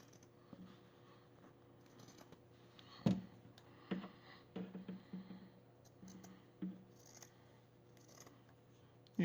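Scissors trim excess fabric along the stitching of a homemade face mask, a quiet series of irregular snips and clicks spaced over several seconds, close and without talk.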